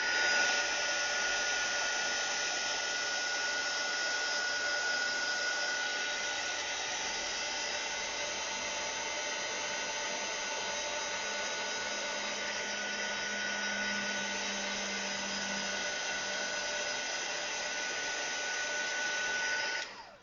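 A heat tool blows steadily over wet watercolour on paper, a loud, continuous fan whoosh and hum running without a break for about twenty seconds before switching off.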